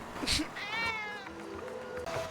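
A single drawn-out cat meow in GTA Online, close and clear, with a little background noise and a faint voice around it.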